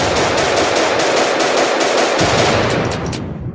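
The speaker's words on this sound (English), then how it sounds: "Hey, stop shooting at me, man." Rapid automatic gunfire in a video game, a loud sustained burst of shots fired in quick succession that fades out at the end.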